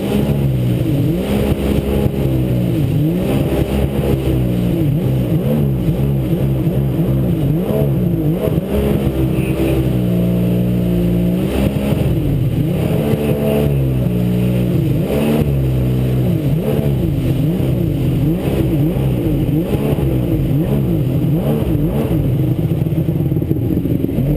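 A 1999 Kawasaki STX 1100 jet ski engine running rough with a clogged fuel filter, loud and close, its revs surging and sagging unevenly with rattly, stumbling pulses throughout and no talk.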